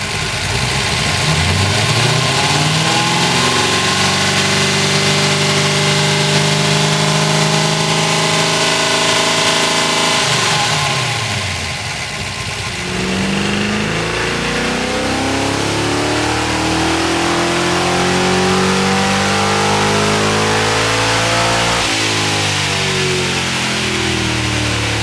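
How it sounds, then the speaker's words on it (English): A tuned car engine on a dyno power run revs hard in long rising sweeps, the pitch climbing steadily to a peak around ten seconds, dropping briefly, then winding up again through several loud sustained pulls. "Revved it a little bit harder, and we seem to have fixed the ignition problem."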